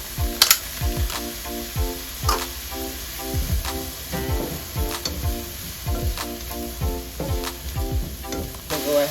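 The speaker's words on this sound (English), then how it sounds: "I'm going to go ahead and add my chopped garlic, onion," Chopped garlic, onion and red onion sizzling in a pan with peppers, with a crackling fry and repeated rhythmic scraping knocks of a spoon throughout, close and moderately loud with no speech.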